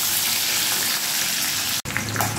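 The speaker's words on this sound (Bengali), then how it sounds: "মাছের মাথাটা ভেজে নিয়ে ফিরে আসছি।" Fish heads frying in hot oil in a home kitchen, giving a steady, close sizzle that cuts off for an instant near the end and then carries on.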